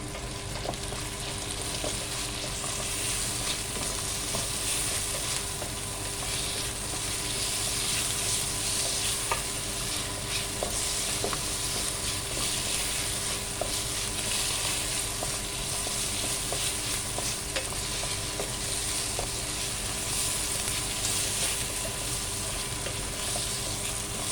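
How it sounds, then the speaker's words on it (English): Tomatoes sauté in a hot pan for vegetable pulao, giving a loud, steady sizzle and frying crackle that runs unbroken throughout, with no voices. "saute it for a minute"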